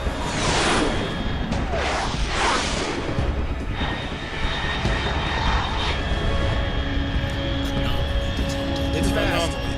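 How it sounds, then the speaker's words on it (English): Jet aircraft roaring overhead in the video game Metal Gear Solid 3, a steady loud engine rush with whooshing swells near the start, over game music and effects. "It's flying an awesome freaking jet thing and just staring at that."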